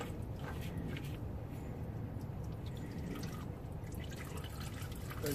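Synthetic motor oil draining from a C5 Corvette, a steady close trickle and patter of liquid into a pan, continuous and fairly loud throughout.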